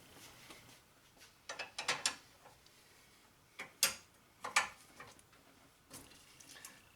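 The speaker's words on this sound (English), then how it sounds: "got a couple of wrenches, 17 and 19 millimeters. Let's see if we can't get that apart" Wrenches of 17 and 19 mm work loose an air-conditioning line fitting on a 2019 Honda, giving a few sharp metallic clicks and ratcheting taps in scattered bursts, close and fairly quiet, with no talk.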